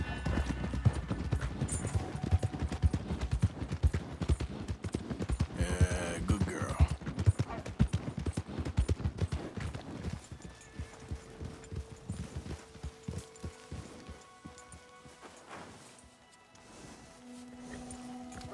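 Horse hooves clip-clop steadily in Red Dead Redemption 2 as a rider tries lassoing another horse from horseback, a loud, busy rhythm at first that thins and quiets later, with brief tonal game sounds.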